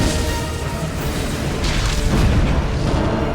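A Star Wars Y-wing starfighter shot out of the sky crashes near hangars, a loud continuous rumbling boom with crashing debris noise that swells toward the end.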